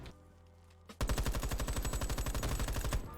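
Rapid automatic gunfire from an unmodified weapon without attachments in a video game bursts in after a quiet moment and continues as a loud, fast, even string of shots to the end.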